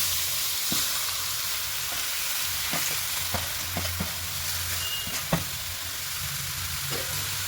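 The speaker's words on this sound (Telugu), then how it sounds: "ఇట్లా నేతిలో మంచిగా వేయించుకోవాలండి నేతిలో" Grated pumpkin frying in ghee for pumpkin halwa, a steady soft sizzle heard alone, with occasional light scrapes and knocks of stirring.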